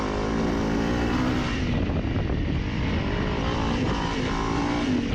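A Honda CRF 300 Rally motorcycle rides along a dirt trail at an easy pace, its engine droning loud and steady with wind rush throughout and a slight dip in tone partway through.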